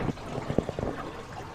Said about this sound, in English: the water's coming from the sump